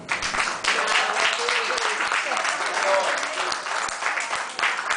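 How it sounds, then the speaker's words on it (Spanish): Audience at a literary and art café gathering claps warmly for Luis Carlos, a crisp, even patter of many hands that holds steady for several seconds, with a voice faintly audible through it. "pido un aplauso para Luis Carlos"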